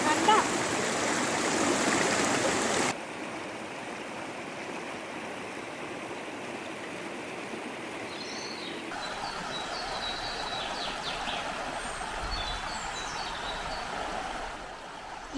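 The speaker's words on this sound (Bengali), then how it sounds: "নদীর বয়ে চলার শব্দ, পাখিদের কলতান" A hill river streams steadily beside a riverside camp, its continuous broadband rush filling the scene while small birds chirp and call faintly in brief bursts over the flow.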